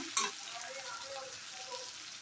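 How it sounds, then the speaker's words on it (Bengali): Steady sizzling of potato, onion and tomato frying in a pan, with a brief stirring clatter near the start and a soft continuous hiss throughout. "টমেটো আলু পেঁয়াজ সবগুলি ভাজা হয়ে গেছে"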